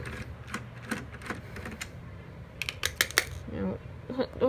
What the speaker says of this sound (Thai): เครื่องนี้มีน็อตหกตัวงั้นเดี๋ยวเรามาเริ่มไขกันเลยนะฮะ โอเค ต้องไขออกนะครับ